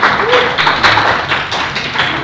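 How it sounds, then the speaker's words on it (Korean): A small group claps briefly for the first team to complete a run at a university engineering class's final demonstration, a short burst of scattered hand taps with faint voices underneath. "박수."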